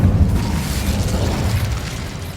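Incendio fire spell cast in Hogwarts Legacy, a loud sustained whooshing roar with a deep rumble that holds steady for a couple of seconds.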